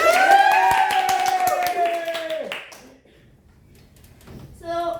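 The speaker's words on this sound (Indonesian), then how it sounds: "Oke, tepuk tangan dulu." A classroom of students clapping their hands in a quick, steady rhythm beneath loud chanting voices. The clapping and voices stop and leave a brief near-silence before a short burst of sound returns.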